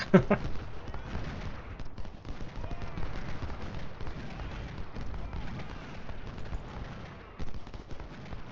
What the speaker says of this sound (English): I like how all my guys are firing backwards.